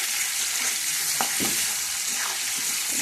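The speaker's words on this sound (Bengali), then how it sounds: "পনিরটা বেশি ভাজবো না, হালকা করে ভাজবো" Paneer cubes lightly frying in a pan with a steady broad sizzle, a few soft clicks of a spatula turning them, no voices.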